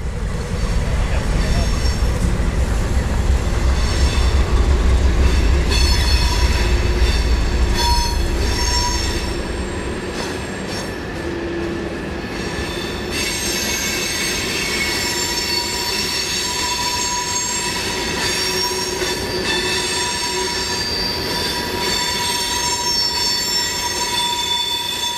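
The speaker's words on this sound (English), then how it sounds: "Once the loaded coal train has left and is headed back towards Motoki" An HO scale model coal train runs along a modern Norfolk Southern layout, its wheels squealing and grinding steadily, louder at first with a low rumble, then continuing as a thinner metallic squeal.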